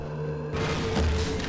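A grenade explodes in Half-Life on hard mode, a single dull boom that cuts in over a low game hum and rumbles on for about a second, with no voices.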